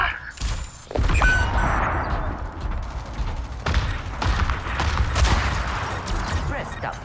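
Widowmaker sniper rifle shots in Overwatch 2, several sharp loud cracks spaced a second or so apart over busy game effects and low rumbling, with a voice speaking briefly.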